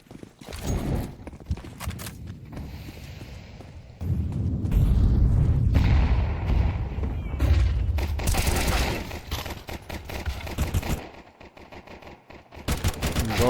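Glock pistols fire in rapid bursts of shots during a Counter-Strike match, mixed with other game noise and impacts, some bursts close and loud, others thinner.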